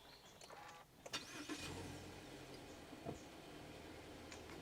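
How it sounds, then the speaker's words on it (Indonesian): A 2022 Subaru Forester boxer engine starting: a brief cranking burst followed by a steady, moderately loud idle settling in, with a small extra blip later on. "Sekarang kita nyalakan dulu mesinnya."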